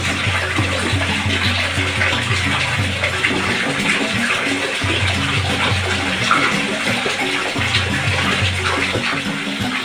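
Water pours into a cooking pot while pepes ikan mas is being prepared, a loud, steady gushing and splashing that runs without a break.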